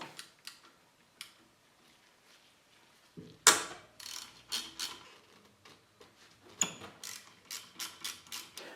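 Metric 5mm Allen-head caliper pins on a Harley-Davidson M8 Softail front caliper, still bolted to the fork leg, being cracked loose: a sharp metallic crack, then a series of ratcheting clicks and light tool taps.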